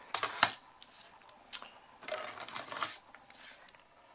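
Cardstock being folded and creased for a greeting card, a few sharp crisp rustles and taps with quieter scraping between them, close and faint, with no voices.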